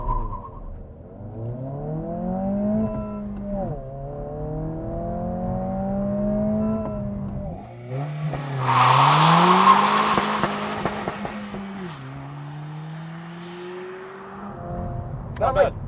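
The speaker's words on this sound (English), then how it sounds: "Gonna launch it in sport mode so we can hear that cool pumped in audio." A 2025 Honda Civic Si in sport mode launches hard from a stop, the engine revving up through gears in rising sweeps with brief dips at each shift, loud and close with a burst of tire noise.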